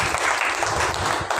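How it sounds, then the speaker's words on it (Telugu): A church congregation at a Palm Sunday service claps together in a steady, dense burst of applause filling the room, with no speech over it. "గట్టిగా చప్పట్లు కొడదామండి."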